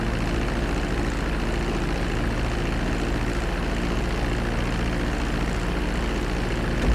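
Steady propeller airplane engine drone in GTA 5 as the plane descends toward the runway, a constant loud hum with no change across the stretch.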